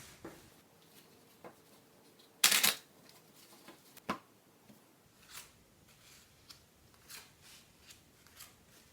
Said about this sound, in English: Take the remaining cards from the deck, shuffle them, and lay them down.